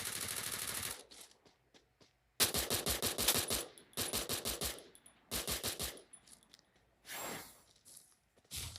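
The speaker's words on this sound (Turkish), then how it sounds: "Artı bu taraftan biri sıkıyor." Rapid automatic gunfire in Free Fire comes in several loud bursts of about a second each, separated by short gaps with faint clicks, the last burst trailing off.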